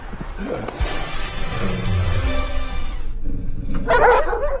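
A dog barks at a household in a dubbed Korean film scene, a few near yips and barks sounding over continuous voices and background activity, with a sharper bark burst toward the end.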